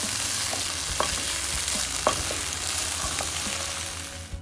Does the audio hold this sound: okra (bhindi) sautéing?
yes